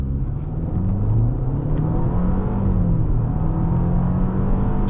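A 2012 Audi A4 2.0T Quattro accelerates hard from a standstill, heard from inside the car. The engine drones loud and steady with a smooth rising pitch.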